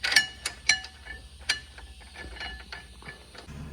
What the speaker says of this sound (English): You can go ahead and screw these in.